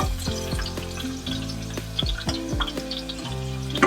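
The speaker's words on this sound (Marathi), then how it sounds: "आता कांदा घालते फोडणीला" Onion drops into hot oil already tempering with curry leaves for a Maharashtrian okra curry, a loud, close, continuous sizzle and crackle with scattered spits and clinks of stirring throughout.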